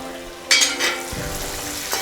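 Chopped capsicum hits a pan of dry-frying coconut for beef roast, a sharp burst of sizzle followed by stirring scrapes and a steady close hiss.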